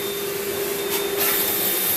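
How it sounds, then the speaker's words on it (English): A vacuum cleaner runs on a house floor during a deep cleaning, a loud, steady motor whine and airy rush held close throughout, with no voices. "right now Erika is vacuuming the floor"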